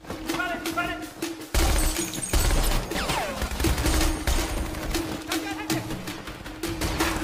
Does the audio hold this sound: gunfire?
yes